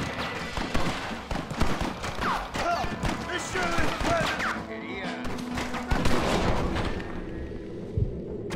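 Red Dead Redemption gunfire, a rapid barrage of sharp shots and booms at uneven spacing, loud and close, thinning out toward the end, with a low background rumble beneath.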